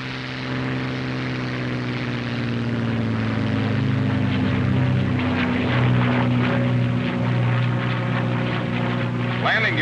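A P-51 Mustang propeller fighter drones steadily as it takes off, its engine tone holding loud and continuous throughout, with a voice talking over it.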